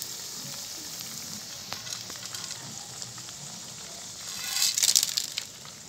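Whole spices frying in oil for an egg curry, a soft, steady sizzling hiss that swells briefly louder near the end.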